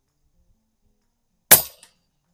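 An air rifle fires a JTS pellet at a 50-yard target, one sharp, close crack that decays quickly, followed by a faint tick and silence.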